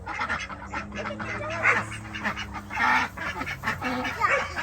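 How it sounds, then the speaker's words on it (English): Ducks newly brought to a farm call out in repeated loud honking quacks, several birds close by in irregular bursts over a background hum. "Look at the ducks."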